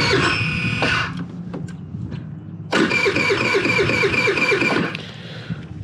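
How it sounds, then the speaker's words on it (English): Cold start of a Pony 50cc scooter engine: a brief churning crank, a pause, then the small engine catches and runs with a steady, buzzy putter before settling lower, close by with no talk. "It's gonna be a cold start, first time starting up today."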